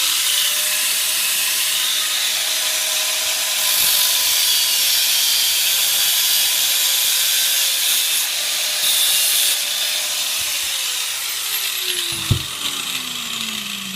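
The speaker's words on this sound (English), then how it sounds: "And with the angle grinder, real quick." Angle grinder cutting the head off a 4-inch steel nail, a continuous high whining hiss held for many seconds, close and steady, ending with a brief sharp bump as the cut finishes.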